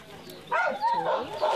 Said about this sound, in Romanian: Și Bahar Şenbahar a venit cu Mabel, un fost câine vagabond.